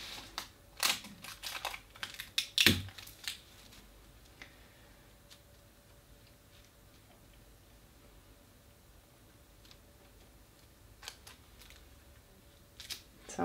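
Tape being pulled and pressed onto a paper sewing pattern during a small bust adjustment, a cluster of close crackles and short rips at the start, then quiet, with a few faint taps near the end.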